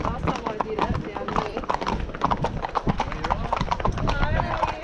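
Horse hooves clip-clop in a quick, steady rhythm as a horse is ridden bareback along a beach, close and clear beneath near-constant conversation between riders.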